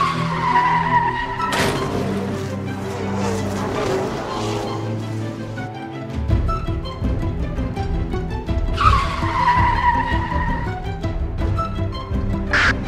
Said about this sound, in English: I came to help you chase the hooligans in the racing cars